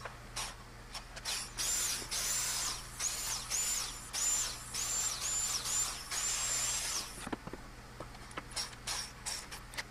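A power drill whines in repeated short bursts while drilling screw holes in a wooden mic stand base. The bursts are close and loud, with brief pauses and handling knocks after them.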